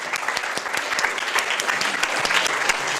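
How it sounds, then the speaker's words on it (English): A lecture audience claps steadily for a guest speaker in a university hall, with dense overlapping applause that stays loud and continuous throughout. "Can everyone just clap Malcolm Ryan for coming here and being so nice?"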